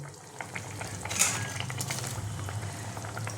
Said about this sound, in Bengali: ধোকাটা আমার দেখো ফুটে গেছে ঝোলটা